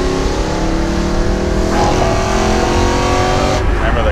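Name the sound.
BMW E92 M3 engine revving high in the RPM range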